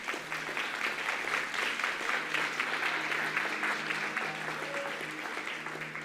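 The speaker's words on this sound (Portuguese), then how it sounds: "Aplauda o Senhor." A church congregation applauds steadily for several seconds, a dense, sustained clapping that fills the room evenly without pause.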